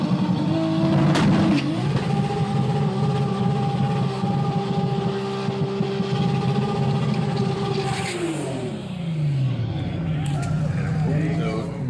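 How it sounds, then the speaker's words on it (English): A Toyota Supra roars on anti-lag, its engine held at a loud sustained high rev for a burnout, then the pitch sweeps down as the throttle eases, with a voice talking over it. "I went up there and I wanted to do a big burnout that would put on a good show."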